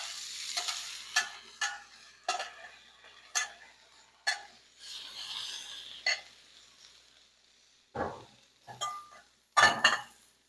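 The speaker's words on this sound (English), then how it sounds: "What I'm going to do now is put the meat and vegetable mixture" A meat and vegetable mixture sizzles on a flat top griddle while a metal spatula scrapes and clinks against the surface in repeated sharp strokes, close and clear over a soft frying hiss.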